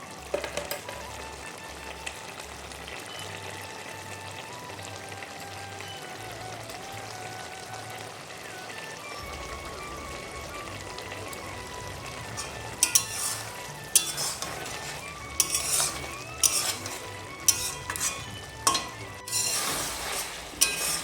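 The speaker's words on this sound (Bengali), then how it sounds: "ঢ্যাঁড়স দিয়ে মাছের মাথার চচ্চড়ি ফ্রাই হয়ে এসছে" Fish head and okra curry frying and being stirred in a pan, a steady soft sizzle with intermittent scraping and clinks of a utensil against the pan growing busier toward the end, no talking.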